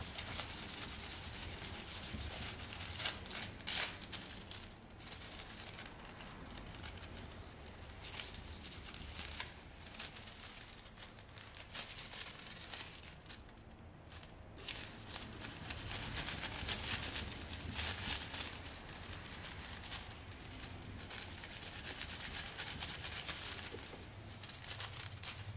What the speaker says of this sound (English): It definitely needs a little bit more scrubbing to get it to transfer.